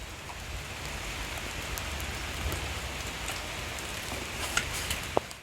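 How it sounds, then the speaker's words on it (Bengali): Steady rain falling and pattering on surfaces, a dense continuous hiss with a few sharper drips and taps near the end. "দেখতে দেখতে বৃষ্টিও শুরু হয়ে গেল বৃষ্টিটা খুবই প্রয়োজন"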